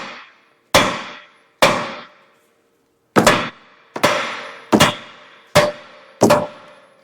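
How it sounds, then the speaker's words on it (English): Eight sharp metallic hammer whacks strike a tie rod end on a Chevy GMC 2500 truck. They come in uneven pairs and singles, each loud and close with a quick decay, and nobody speaks. "I'll give it a few whacks here with the hammer, and it'll just fall out whenever it releases."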